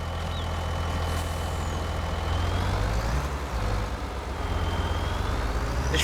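In Farming Simulator 25, an empty logging truck's engine rumbles steadily and close by, rising slightly in the middle as it drives along, with faint whining tones over it and no talking.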